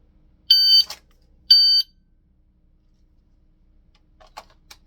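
Random shot timer used for dry-fire draw practice gives two sharp electronic beeps about a second apart, loud and close, then a couple of faint clicks near the end.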